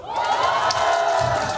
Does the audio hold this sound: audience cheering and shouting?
yes